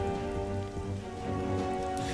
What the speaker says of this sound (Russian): Мне нравится здесь, как звучит шум дождя.